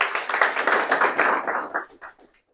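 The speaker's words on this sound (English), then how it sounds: "Give him claps" Students in a classroom clap for a classmate, with a scattered burst of hand claps that stays fairly loud and then thins out to a few last claps before silence.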